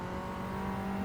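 A race car engine holds a steady, droning tone under throttle in Gran Turismo 7, with a sustained low hum and harmonics over about a second, moderately quiet and without voices.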